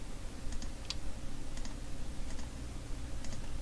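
Computer keyboard keys pressed during 3D modeling work, a handful of light, separate clicks spaced out over a steady background hum.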